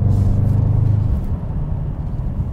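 A 2021 Mercedes-AMG E63 S wagon with 4MATIC Plus all-wheel drive under way, its deep engine rumble loud and close from start to finish, strongest early and then settling into a steady low drone.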